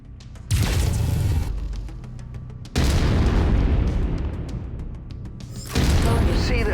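A mech bursts apart as its center torso is destroyed in MechWarrior 5, heavy booming explosions arriving in three loud waves, each with a deep rumbling tail.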